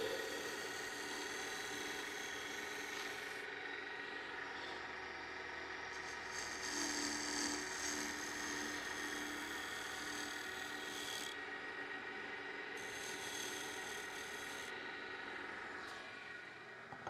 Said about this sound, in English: you can actually do some decent shaping with 100 grit sandpaper